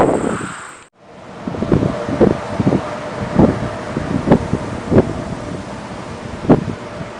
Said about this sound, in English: you hear that wind? That wind is picking up